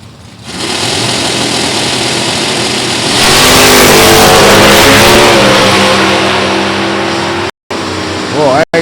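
A 1987 Chevy Camaro stock car with a 350 engine roars loudly at Beech Bend speedway, its motor droning and revving harder partway through. An announcer's voice runs over it, and the sound cuts out briefly near the end.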